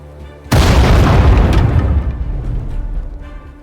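A heavy explosion bursts in a Sudden Strike 4 battle as bridges are blown during the Battle of Ypres, a sudden loud boom followed by a long rumbling roar that slowly fades.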